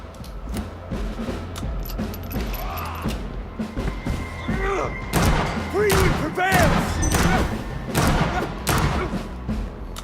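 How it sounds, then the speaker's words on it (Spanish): Revolver shots ring out in the video game Vampyr, a scattered series of sharp bangs and thuds mixed with clattering game mechanisms and other in-game noise. "Probamos ahora con el revólver."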